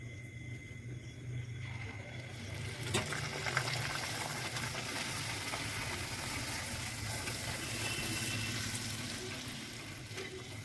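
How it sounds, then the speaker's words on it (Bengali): Luchi, a puffed flatbread, fries in hot oil with a steady close sizzle and bubbling, a brief sharper crackle near the start, then continuous frying with no voices. "লুচি ভাজার জন্য তেল বসিয়ে দিয়েছিলাম, তেল গরম হয়ে গেছে। এবার একে একে সব ভেজে নেব।"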